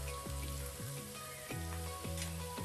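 Sliced onions, dried red chilies and curry leaves sizzle steadily in a hot pan of oil for a South Indian chutney. The close, continuous frying has bright crackling bursts, and metallic stirring tones ring out at regular points.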